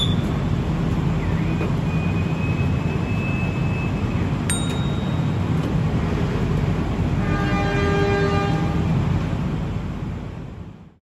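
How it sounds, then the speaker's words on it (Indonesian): Pasundan passenger train rolling through Madiun station at night toward Surabaya, a steady loud rumble of wheels and carriage noise throughout, with a brief horn-like tone and whining harmonics rising near the end. "kereta api sudah melintas di stasiun Madiun menuju ke arah Surabaya"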